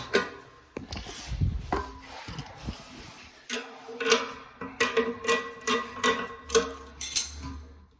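A nut being turned by hand onto a toilet floor bolt during a new Gerber elongated toilet installation, heard as close, irregular small scrapes, rubs and ticking clicks that become a quicker series toward the end.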